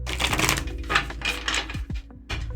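Tarot cards riffled and shuffled by hand in quick bursts of dense papery flutter and snapping, close to the microphone, followed by a few soft taps as the deck is squared.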